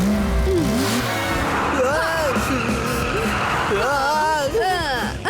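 A cartoon car driving, heard as a revving engine and swooping tire squeals under music and bursts of animated character speech.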